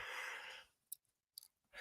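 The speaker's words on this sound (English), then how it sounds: "I'm yawning as well." A person yawns in one long, breathy exhale that fades out, followed by a few faint mouth clicks and a quiet breath near the end.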